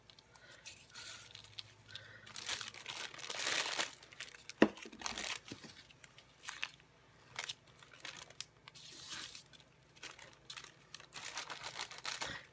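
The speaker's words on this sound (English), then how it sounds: "I'm just going to take them and crinkle them up a little bit the other way" Paper strips are crinkled by hand in soft, irregular bursts of crackling rustle, close and fairly quiet, with a single sharp tap partway through.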